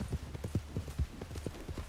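A horse gallops in Red Dead Redemption 2, its hooves striking in a quick, even rhythm of close, distinct thuds that run through the whole stretch without talk.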